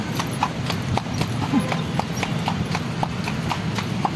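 Steady clip-clop of iron-shod horse hooves on pavement in Manila, an even walking rhythm close by, with faint background noise.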